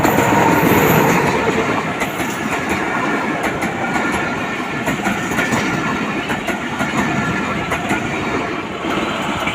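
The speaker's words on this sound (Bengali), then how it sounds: "এই দেখেন ট্রেন চলে আসছে।" A train rolls past close by with a loud, sustained rumble and a rhythmic clatter of wheels over the rail joints that continues throughout.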